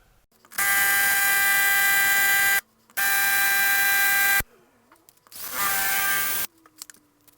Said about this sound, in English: I think I might try a different drill bit.